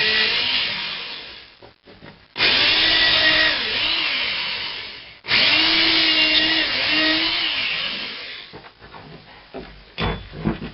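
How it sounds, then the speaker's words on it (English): A power drill whirs loudly in two long bursts, its pitch sagging and rising as it bites into wood, with short pauses and clatter between. "It's easier to drill this without that nail in the way."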